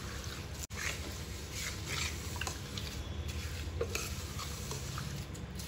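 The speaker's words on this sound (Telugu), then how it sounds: "ఇలా కలుపుకొని వడపోసుకుందాం." Homemade herbal hair oil, thick with leaves, is stirred in a pot over low, continuous bubbling and sizzling, with faint utensil scrapes throughout and one brief sharp knock early on.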